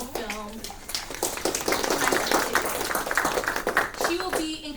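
An audience applauds the dean at a university film event, a dense wash of clapping from a full room that swells and carries on while a voice speaks over it.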